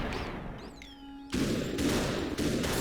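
Gunfire in the first-person shooter game Superhot: a dense, loud burst of shots cuts in abruptly after a quieter stretch with a faint whoosh, then continues steadily to the end.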